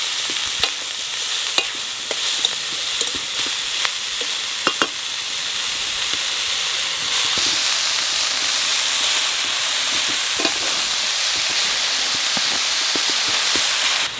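Khesari greens are stirred into hot oil with chilies in a pan, giving a loud continuous sizzle and hiss. Scraping stirs click through it, and the frying grows fuller partway through.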